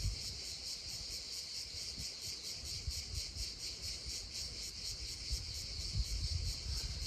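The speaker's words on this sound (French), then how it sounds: "c'est vraiment de venir connecter au chant des cigales." Cicadas sing in a dense, pulsing chorus at Massif du Cap Garonne, a continuous shrill buzz with a steady rhythmic throb, moderately distant and unbroken.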